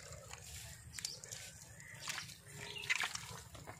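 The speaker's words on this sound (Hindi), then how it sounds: "देखिए पानी बह रहा था तो रोक रहे हैं पैर से" Water trickling and sloshing in a shallow channel during a fishing outing, with a foot being used to block the flow; soft, close splashes and drips come in uneven bursts over low background noise.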